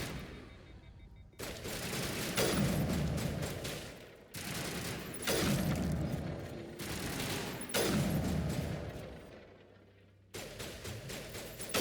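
Bursts of rapid pistol gunfire from the video game Mass Effect come in several sustained volleys separated by brief gaps. The shots sound moderately loud and stand alone without speech.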